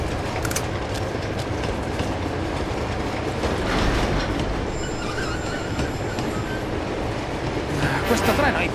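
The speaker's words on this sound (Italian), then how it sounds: "Questo treno è infinito!" A train in the video game Uncharted 2 rumbles and clatters continuously with metallic wheel noise and occasional squeals, loud and sustained, with game voices mixed in.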